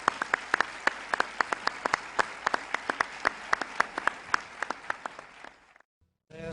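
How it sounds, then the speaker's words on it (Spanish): An audience applauds at an exopolitics conference in Europe, a crisp, steady run of individual claps with sharp hand strikes standing out, fading out near the end before a brief silence. "Démosle un aplauso a Paola Harris."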